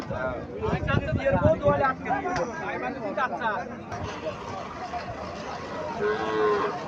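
A cow lows at a busy cattle market in Mirshanni, Comilla, giving several drawn-out moos near the start over a background of crowd chatter and nearby talk.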